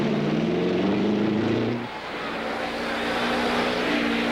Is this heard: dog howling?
no